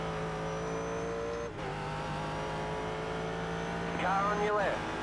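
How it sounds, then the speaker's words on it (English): A race car in the iRacing sim at Watkins Glen drones steadily with harmonic engine tones, then another car closes in and passes with a rising, shifting engine note near the end. "Now get the 11 car coming up behind, so I'll let him pass in the straight going up here."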